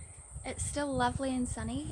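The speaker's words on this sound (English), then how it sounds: "You can hear the cicadas and the river in the background." Cicadas drone as a steady, high-pitched buzz along the Cass-Lagoon Saddle Track in Craigieburn Forest Park, continuing faintly in the background beneath a person talking.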